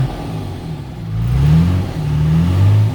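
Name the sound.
2003 Freightliner SC-8000 truck engine revving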